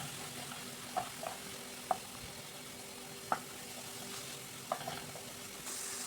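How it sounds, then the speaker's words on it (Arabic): Chicken, onion and parsley frying in a pan give a steady, fairly quiet sizzle, with a few soft clicks of stirring scattered through it and no voices. "غير الدجاج والبصله والمعدنوس في الاول كنشحرهم مزيان"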